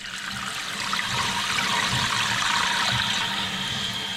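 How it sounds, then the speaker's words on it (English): Water rushes steadily into a toilet tank as it refills after the supply valve is opened, a continuous close hissing and trickling flow with no pauses. "let's go ahead and turn the water back on"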